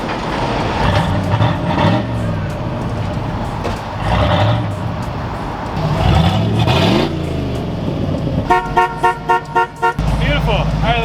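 A 1986 Ford F250 engine running loud and close, rumbling and revving with exhaust burbles, while people talk over it; near the end a rapid series of rhythmic pulses breaks up the sound.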